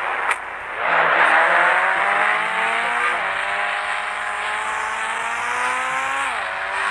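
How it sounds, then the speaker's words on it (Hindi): Toyota Fortuner engine in a video game, a steady droning motor that revs up as the car pulls in, with the pitch rising and dipping through gear shifts, loud and continuous. "फॉर्च्यूनर आ चुके हैं, नई गाड़ी।"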